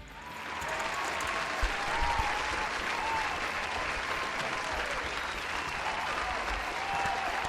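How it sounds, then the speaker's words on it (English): A crowd applauds winners at an online event, with dense, continuous clapping that holds steady and fairly loud throughout. "massive round of applause to all you winners."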